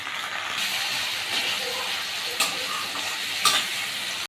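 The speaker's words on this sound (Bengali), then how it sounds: "দেখুন এবার আমি দিচ্ছি টমেটোগুলো" Chopped tomatoes frying in a pan for ghugni make a continuous close sizzle, with two brief clatters of a utensil against the pan.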